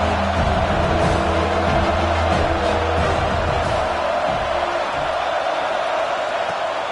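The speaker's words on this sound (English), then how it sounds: "Decibels rising as the crowd gets behind this defense on 3rd down" Stadium crowd at a UCF vs USC college football game roaring steadily for the defense on third down, a dense continuous wash of cheering and whoops with a low rumble throughout, no speech over it.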